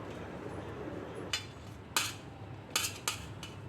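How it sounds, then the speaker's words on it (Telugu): A few sharp knife taps on a board while red chillies are cut into pieces for a tomato and red chilli pickle, quiet and close with brief pauses between strokes. "తర్వాత ఈ పండు మిర్చి ముక్కలుగా కట్ చేసుకోవాలి"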